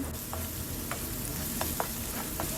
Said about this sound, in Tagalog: kapag mainit ang mantika, ilagay na natin ang bawang